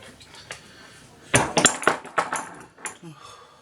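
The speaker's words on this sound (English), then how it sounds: "I'm going to put some olive oil into this pan." A pan is handled on a stovetop while olive oil goes in, giving a cluster of close metallic clinks and knocks against faint background noise.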